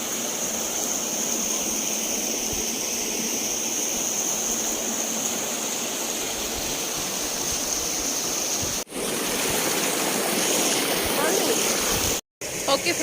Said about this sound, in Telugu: దాని వెనకాల తుంగభద్ర నది.